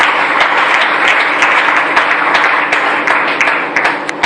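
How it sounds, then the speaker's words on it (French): Audience at a church gathering breaks into applause, a dense, loud, continuous wash of many hands clapping close by that carries on without pause and with no voices over it. "Est-ce qu'on peut acclamer cela?"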